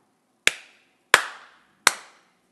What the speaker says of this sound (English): if I clap, there's live mics on the stage right now